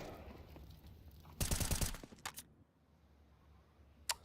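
Gunfire in a competitive first-person shooter match: a short loud burst of rapid automatic fire, then a couple of single sharp shots and a later lone crack, with quieter game ambience between.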